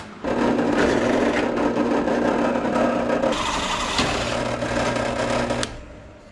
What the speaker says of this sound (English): I just need to finish drilling these 5/8 holes on the drill press here